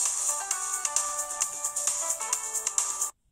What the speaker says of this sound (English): somebody just beeped in my phone